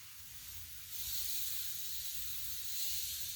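Spray starch hisses onto the back of a MARPAT camouflage uniform blouse laid over a towel on an ironing board, a soft steady aerosol spray with one longer continuous burst.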